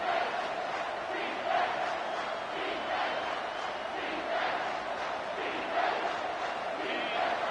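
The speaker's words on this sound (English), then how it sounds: "Third down, and this crowd is tearing the lid off this place." A packed football stadium crowd roars on third down, a sustained loud wash of cheering and shouting with surges rising and falling over several seconds.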